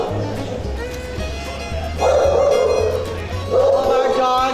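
Dogs in animal shelter kennels bark, yip and whimper in overlapping bursts, fairly close and loud, with a person talking over the barking.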